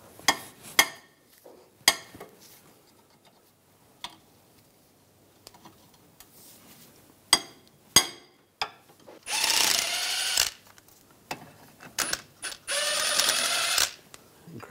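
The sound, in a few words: removing BMW caliper bracket bolts with 16mm socket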